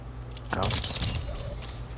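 Enemy armor cracking in the video game Warzone 2.0, a single sharp shattering crack with a brief glassy tail, heard over game ambience.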